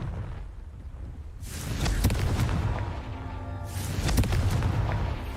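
Two booming fire-spell explosions from the Confringo curse in Hogwarts Legacy, loud and close, each a broad crackling burst with a rumbling tail, about two seconds apart.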